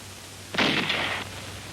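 A single 75mm pack howitzer firing in wartime combat, one sharp booming report that hangs as a broad burst of noise for about half a second before cutting off, heard against a steady low hum.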